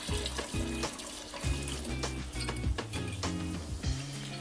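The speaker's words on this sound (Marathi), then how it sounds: "तांदूळ छान स्वच्छ धुवून घ्यायचे आहेत. साधारणतः 2 ते 3 पाण्यामध्ये हे तांदूळ धुवून घ्या." Rice washed by hand in a bowl of water for chicken biryani, with repeated sloshing swirls and splashes plus small knocks against the vessel, close and continuous, no talk.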